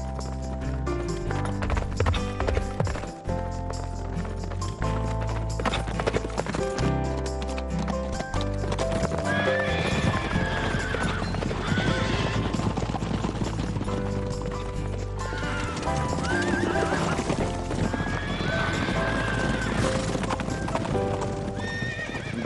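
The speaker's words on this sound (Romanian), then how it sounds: "Eu și Lena ne vom ocupa de cai." Several horses gallop with steady clip-clop hoofbeats and neigh repeatedly over about twenty seconds, loud and close, set within a dubbed animated farm episode with background music.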